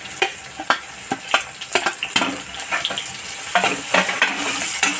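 Tomato goes into onion frying in a pan, giving steady close sizzling broken by repeated scraping stirs and knocks of the utensil against the pan, with no talk.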